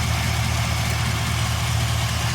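Truck engine idling with its fuel relay pump fuse pulled, a steady, loud low rumble with an even droning hum and no talk.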